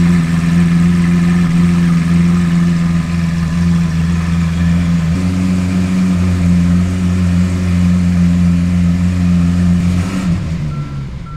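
A sports car engine runs steadily at a loud, close idle with strong low harmonics, shifting pitch slightly midway and easing off toward the end.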